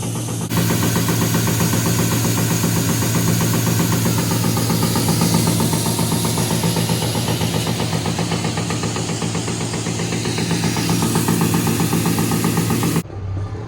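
A 6.0 diesel truck engine on a hot day rumbles loud and close for about thirteen seconds at a steady, slightly knocking idle, then cuts off abruptly near the end.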